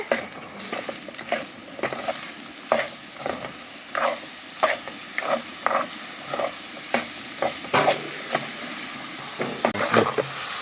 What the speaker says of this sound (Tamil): வெல்லத்தை போட்டு கிண்டிட்டு